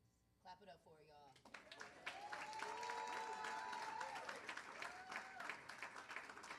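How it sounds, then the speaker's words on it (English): An audience at a live rally on a Detroit tour breaks into steady clapping that builds and holds, with cheers and raised voices mixed through the crowd. "Clap it up for her, y'all."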